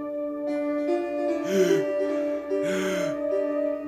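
In Phoenix Wright: Ace Attorney, two voiced gasps ring out over steady game music, each a sharp breathy intake spaced about a second apart.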